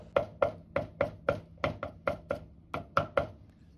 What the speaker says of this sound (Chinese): 大蒜稍微多一點，1小塊生薑，拍破剁碎就可以